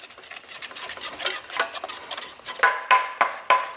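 Dry seasonings including MSG for a fried chicken batter get stirred briskly in a bowl, a run of close scraping and clinking strokes that grow sharper toward the end.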